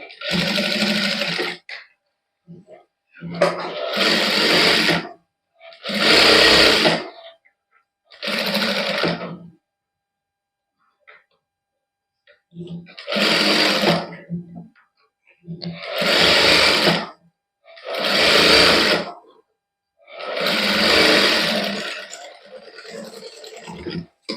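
A sewing machine stitches a Punjabi matching suit with lace at the neckline, running in loud, close bursts of a few seconds each separated by quiet pauses, with no talking over it.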